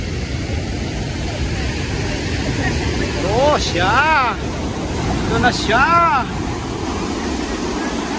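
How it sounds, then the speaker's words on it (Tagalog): Rushing water from a waterfall at Geiranger, Norway, roars steadily as a loud, continuous wash while excited voices talk over it. "Ayan yung tubig! Ang lakas, grabe."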